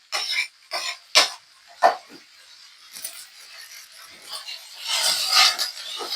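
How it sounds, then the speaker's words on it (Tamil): Coconut being grated by hand in a home kitchen: a series of short, close rasping scrapes, about five quick strokes, then a longer run of softer, continuous scraping. "இப்போ இதுவும் நல்லா தேங்காய் துருவி போட்டுக்கலாம்"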